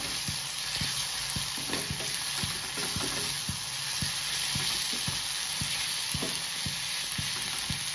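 Tomatoes frying with browned onions in a pan, a continuous bright sizzle with regular soft knocks of a spoon stirring, close and alone without talk.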